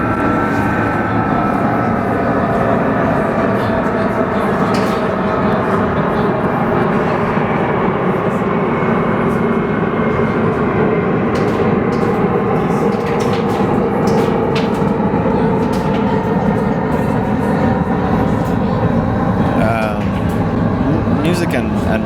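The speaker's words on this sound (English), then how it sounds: "wait for this plane to go over." A plane passes overhead as a broad, continuous roar that stays fairly loud for more than twenty seconds. It fills the background outdoors while a person talks over it.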